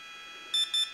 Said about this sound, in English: Now these 2 beeps here are telling us that we have forward, brake, and reverse.